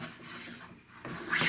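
A Lie-Nielsen hand plane is pushed into opposing wood grain, giving a short rasping, scraping stroke that fades briefly midway and then returns louder and brighter.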